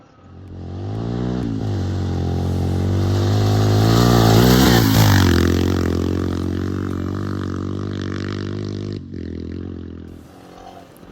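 A Royal Enfield Himalayan motorcycle revs hard and accelerates across a loose, rough surface, its single-cylinder engine note rising steadily, peaking mid-run, then easing off with gravel scrabbling beneath the tyres.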